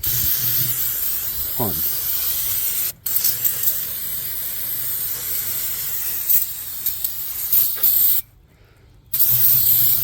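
Cleaner sprays in a long continuous hiss over the M156 6.3-litre engine bay of a Mercedes CLK63 AMG convertible with an oil leak, close and loud, briefly pausing twice; a voice speaks a word early on.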